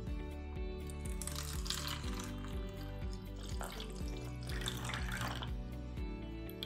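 Electrolyzed reduced water poured over a tea bag, a continuous splashing pour with a rising, filling tone, steady and close, with no talking.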